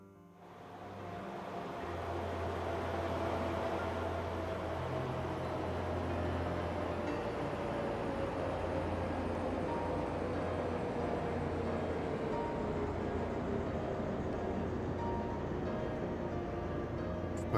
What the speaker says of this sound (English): Sounds like we've got a train approaching.